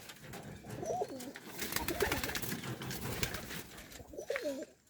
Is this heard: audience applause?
no